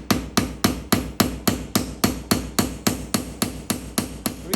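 A hammer taps metal parts while a Swiss Army knife is assembled by hand in Switzerland, about fifteen evenly spaced, moderately loud strikes in a steady rhythm with no talk.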